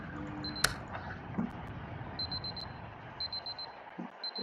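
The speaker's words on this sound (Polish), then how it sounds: "I za chwilkę znowu zadzwoni budzik." Alarm clock ringing in the puzzle game Superliminal, thin high beeping bursts repeating in short groups, fairly faint over a busy low background with a couple of clicks.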